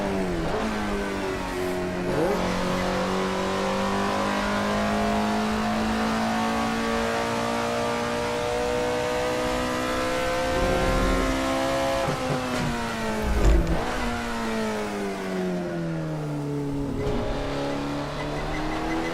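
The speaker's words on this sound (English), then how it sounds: "The engine sounds somewhat like the Climax V8 engine in Formula 1." A roaring vintage race car V8 engine in the video game Assetto Corsa revs continuously with rising and falling pitch, loud and close, with brief gear-shift dips along the way.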